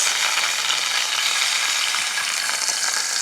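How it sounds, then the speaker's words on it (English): Pork or beef tenderloin browning in a hot pan gives a loud, steady, dense sizzle with a fine crackle running unbroken throughout, and no voices are heard. "Now the reason I'm browning this is so that it can sear in the juices"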